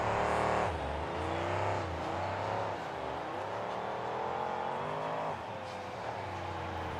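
Monster truck engine of the Team Rat Trap truck at a freestyle event, revving hard and cycling in pitch as it spins donuts, a loud continuous roar that swells and dips with each rotation.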